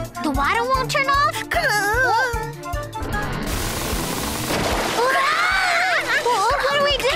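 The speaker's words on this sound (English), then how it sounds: "The water won't turn off?" Water from a tap that won't turn off runs and splashes loudly, heard between and under cartoon children's voices in a Halloween haunted-house scene.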